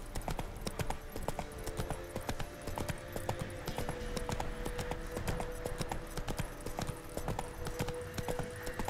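Horse hooves gallop in The Witcher 3 video game, a loud, steady, rapid clip-clop rhythm that continues throughout without pause.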